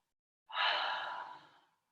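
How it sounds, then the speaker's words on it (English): A single deep breath during a restorative yoga session, one soft, close exhale lasting just over a second after silence, with no talk. "Take a few deep breaths."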